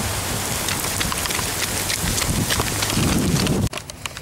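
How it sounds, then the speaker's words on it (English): Heavy rain pours hard outdoors, a dense, steady hiss with scattered drops that continues for several seconds before cutting off abruptly near the end. "It's raining pretty damn hard, so I'm gonna run back to the car"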